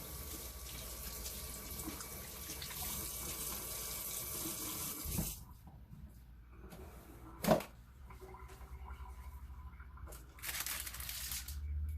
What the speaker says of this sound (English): rinse my hands really quick